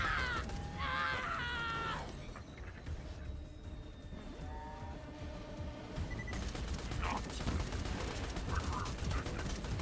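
Dense rapid gunfire from a video game weapon, bursts of shots layered over busy game effects and background noise, with voices chattering intermittently throughout.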